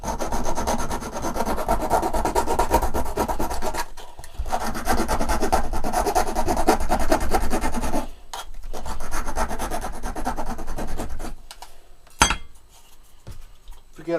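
A file rasps steadily and loudly against the metal of a homemade alcohol stove in long, continuous strokes, pausing briefly twice before a final scrape and a sharp click.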